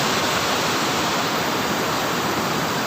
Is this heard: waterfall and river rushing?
yes